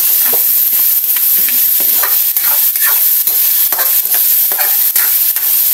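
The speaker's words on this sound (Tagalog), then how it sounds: "Pabayaan muna natin na maksay ng kaunti yung ating pork" Leftover pork chop pieces fry in a hot pan, a steady loud sizzle broken by repeated scrapes and clinks of a utensil stirring the meat.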